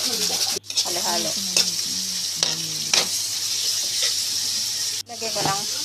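Onion and ground meat fry in a pan with a steady sizzle while a utensil scrapes and stirs through them. A person talks over the cooking, and the frying stays close and loud.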